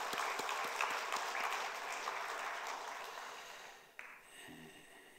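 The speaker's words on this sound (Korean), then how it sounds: "하나님께 영광의 박수 올려드리겠습니다." A church congregation gives a round of applause for the choir during a Sunday worship service, a dense, fairly distant wash of clapping that fades out after about four seconds, followed by a brief faint rustle.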